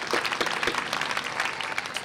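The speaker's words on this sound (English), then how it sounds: "Give them a round of applause." Dense, continuous applause fills a 2013 Columbia Southern University graduation ceremony, a steady crowd roar of many hands throughout.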